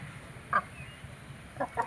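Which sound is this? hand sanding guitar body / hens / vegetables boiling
hens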